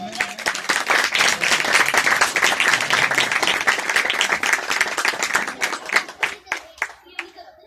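An audience at an ordination ceremony claps in sustained, dense applause that thins into a few scattered claps at the end.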